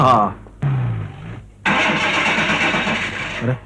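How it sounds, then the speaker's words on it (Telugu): A car engine cranks in short, strained bursts, stalls, then turns over into a loud, rough running roar, heard up close. "దీని ఇంజన్ కి ఏదో జబ్బు చేసినట్టుంది."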